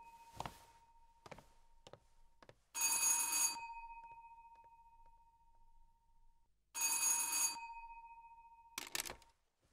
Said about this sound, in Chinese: 对不起，我接个电话。